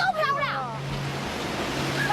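Rough surf churning steadily, a broad roaring wash of raging water that holds on throughout, with a voice speaking briefly over it at the start.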